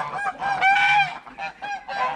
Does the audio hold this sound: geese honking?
yes